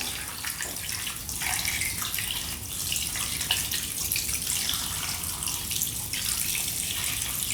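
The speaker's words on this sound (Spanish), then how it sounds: "Vamos a lavar las patitas." Tap water runs steadily into a sink while raw chicken feet are washed, making a continuous close splashing hiss with small shifts in the flow.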